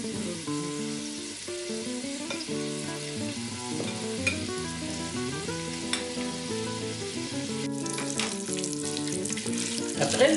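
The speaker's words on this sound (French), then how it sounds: "je vais faire revenir environ 5 minutes en mélangeant. Pendant que mon bacon cuit" Bacon sizzles steadily in an Instant Pot while being stirred, a continuous frying hiss under strong background music, with a brighter burst of crackle near the end.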